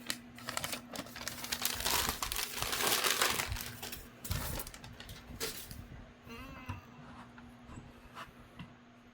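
Newspaper packing crinkled and rustled while unpacking a ScaleTrains ET44 model locomotive box, dense close crackling that swells then thins into scattered crumples, with a faint steady hum beneath.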